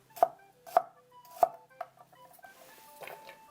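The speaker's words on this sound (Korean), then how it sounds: "대파는 이제 어슷썰기로 썰어주면 됩니다" A knife cuts green onion diagonally on a cutting board, with three crisp, evenly spaced chops and then a few lighter, quicker cuts, close and clear.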